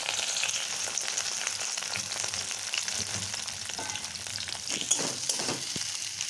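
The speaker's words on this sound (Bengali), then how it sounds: "তেল গরম হয়ে গেলে ওর মধ্যে আমরা পেঁয়াজ কুচি," Chopped onion and green chili fry in hot oil, a continuous close sizzle and crackle with occasional stirring sounds and no talking.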